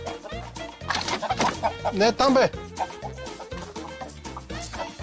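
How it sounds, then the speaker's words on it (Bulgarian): A single backyard hen clucks and squawks agitatedly up close while a person calls out over her, the clucks rising into a louder burst midway before settling into steadier chatter. "Кокошки, ела вътре, влез."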